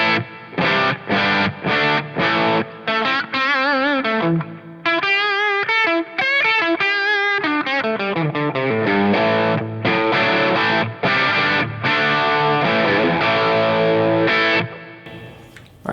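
An electric guitar through an Orange Getaway Driver overdrive pedal plays chords and a sliding melodic line, the crunchy, British Marshall-style distortion ringing out loud and clear.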